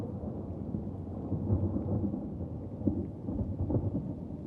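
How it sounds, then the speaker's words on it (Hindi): Rain begins with rolling thunder as a story sound effect, a low continuous rumble with the patter of rain and a few soft swells, heard without speech. "लेकिन ठीक उसी वक्त बारिश शुरू होती है"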